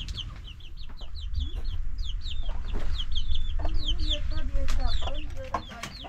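Chickens cluck and chirp repeatedly in a busy chorus, several birds close by, with a low steady rumble underneath.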